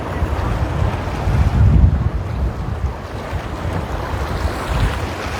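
Ocean waves wash near the Waikiki shore, a loud continuous surge and hiss buffeted by strong wind noise on the microphone, with a brief swell in intensity partway through and no voices.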